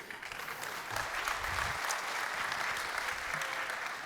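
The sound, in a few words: audience applause for the drummer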